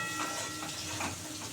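Ground spice mix tipped into a pan of frying pointed gourd and potato, a steady close sizzle with light stirring running under it throughout, no voices.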